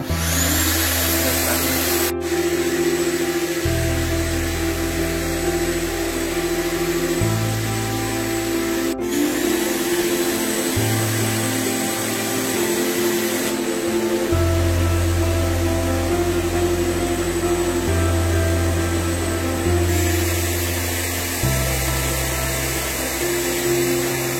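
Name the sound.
wet vacuum cleaner running, sucking up water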